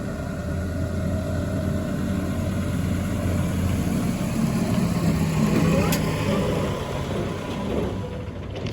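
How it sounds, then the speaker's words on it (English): A big truck rolls in with inventory on vendor setup day at Canton Trade Days, its engine idling in a steady, fairly close low rumble that holds for several seconds. "It's a big truck, huh?"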